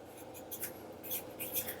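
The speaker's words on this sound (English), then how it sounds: "So let me just write that in there." A pen or stylus writing math notes makes faint, intermittent scratchy strokes in a few short bursts, quiet and close.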